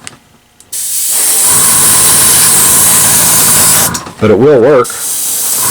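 An airbrush sprays thick, inexpensive paint for a skin tone, its steady hissing air running for several seconds close by, with a brief interruption and a voice speaking near the end.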